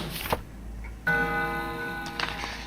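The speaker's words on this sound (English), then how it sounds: "When I spin the long hand, the clock makes a noise." Ticking clockwork sounds as the long hand of a clock is spun in the game Spirit Hunter: NG, a sustained mechanical tone with faint clicks under quiet game ambience, after a short tap at the start.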